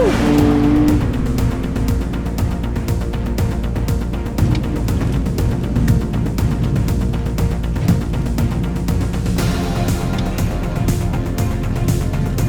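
A BMW E46 is driven hard on a race track during a time attack session, a loud continuous engine roar with repeated rising revs and gear shifts, heard close from inside the car.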